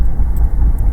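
Road traffic rumbles steadily close by, a dense low drone of vehicles with no voices.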